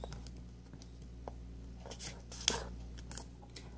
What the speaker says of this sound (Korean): 접어주신 다음에 다시 한번 반을 중심선에서부터 반을 접어줍니다.